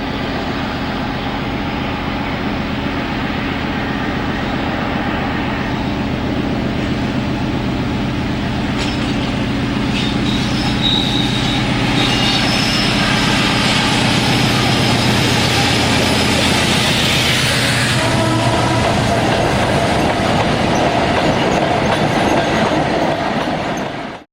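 Class 56 diesel locomotive 56112 working at full power and full sand with empty wagons at Milford in 1995: a loud, sustained engine roar close by, with rumbling and clanking wagons and a brief metallic squeal partway through.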